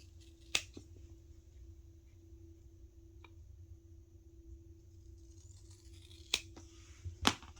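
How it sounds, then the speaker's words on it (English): Scissors trimming sewing fabric for a clutch handbag, a few sharp isolated snips spread across a quiet room, close but faint, with long pauses between cuts. "so I've just trimmed that off"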